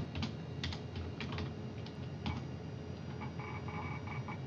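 Typing a command on a computer keyboard, a quick irregular run of close key clicks in small bursts, fairly quiet, no talking.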